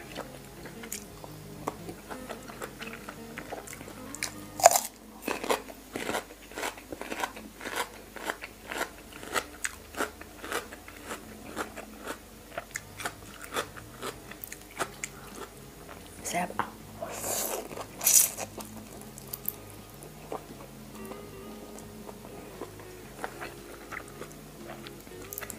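Spicy Thai mixed salad (tam mua) with crisp red radish and shrimp is chewed close up, producing steady, rapid crunches and bites throughout, with a voice talking now and then.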